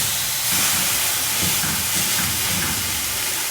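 A hamburger patty sears in a hot pan with a loud, steady sizzling hiss up close, with no talk.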